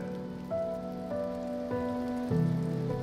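Steady rain falls in a continuous wash under sustained, music-like tones that swell slightly toward the end, with no voices.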